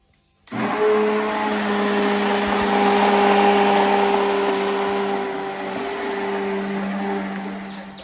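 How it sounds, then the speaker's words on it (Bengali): An electric blender grinding spices whirs to life after a brief silence and grinds steadily at a high, even pitch for several seconds, close and loud. "এখানে সব মশলা আম্মা ব্লেন্ডার করে দিতেছে"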